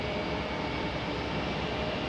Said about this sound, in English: I can hear a jet.